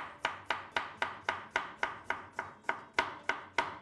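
A knife slices food on a cutting board in a steady run of about fifteen evenly spaced, crisp chops, close and alone with no voices.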